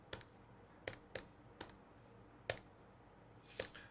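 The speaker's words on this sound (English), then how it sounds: "I have no choice to change my calculator to radian. Angle unit radian. Type the whole thing." Scattered plastic key presses on a calculator, around ten faint separate clicks at an uneven typing pace in a quiet room, some coming in quick pairs.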